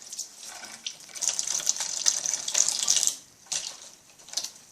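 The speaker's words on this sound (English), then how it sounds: "So give that a good rinse." Tap water runs into a kitchen sink during rinsing, a bright rushing spray that swells and briefly cuts off before resuming in shorter bursts, close by with no voices.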